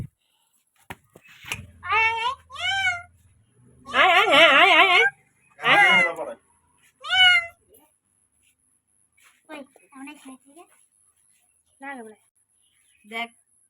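Two abandoned kitten babies mew loudly at close range in a burst of high, wavering cries, followed by quieter, scattered mews with silent gaps between them.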